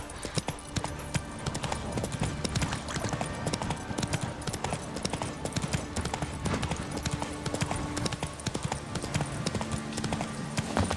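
Roach, the horse in The Witcher 3, gallops steadily, with dense, continuous clip-clop hoofbeats close by over busy in-game ambience for the whole stretch.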